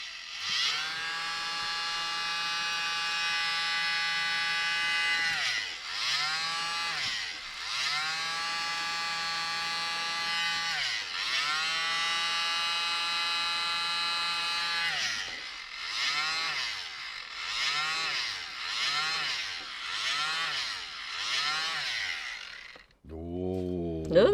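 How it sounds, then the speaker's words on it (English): A small electric mini blower whirs in repeated high-pitched bursts, long steady runs at first then shorter on-off pulses, while blowing paint through a puddle to form cells in acrylic pour art. "because I'm using the mini blower, I'm not blowing it out by mouth"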